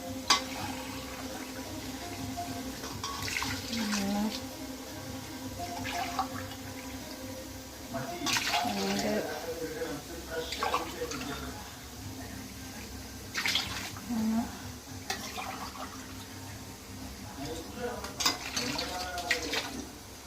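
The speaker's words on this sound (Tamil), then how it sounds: "இப்போ அதுக்கேற்ற மாதிரி தண்ணி சேர்த்துக்கலாம்" Water splashing and pouring in bursts into a pot of rice for country chicken biryani, close by, with some quiet talk in the background.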